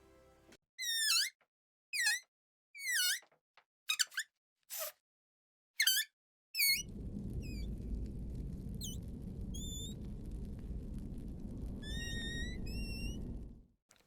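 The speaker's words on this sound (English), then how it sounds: "he's squeezing out air from a balloon to make bat sounds" Air squeezed from a balloon produces chirpy, high squeaks for cave bat creature sounds in a foley studio, several short squeak bursts, then a steady low rubbery rumble with further faint chirps over it.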